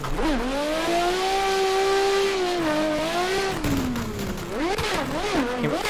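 A 2021 ESDA S15 drift car engine revs hard and holds a loud, rising and falling drone, then wavers through quick throttle blips near the end.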